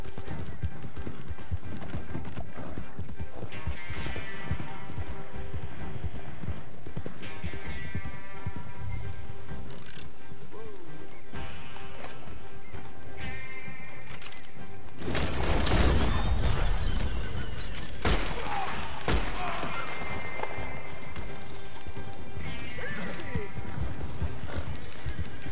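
Horse hooves clip-clopping and galloping in the Red Dead Redemption 2 video game, with occasional whinnies and a louder burst midway, running steadily under someone talking throughout.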